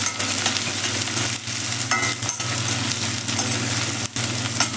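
Thinly sliced large onion dropped into hot oil with a spoonful of cumin, frying with a steady, loud continuous sizzle throughout, a few brief stirring scrapes breaking through; no talking.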